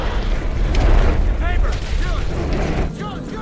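A car explodes in the 2013 film Now You See Me, a deep rumbling boom with roiling blast noise and debris, partly under a narrator's voice.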